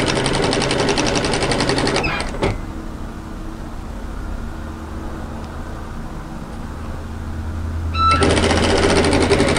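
A commercial sewing machine stitches a narrow rolled hem in two fast, steady bursts of rapid mechanical rattling, one at the start and one at the end, with a quieter pause between and no talking.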